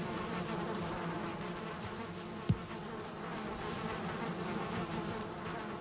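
Bees buzz steadily around hives in the Viking survival video game Valheim, a close continuous drone with a brief click partway through, no talking.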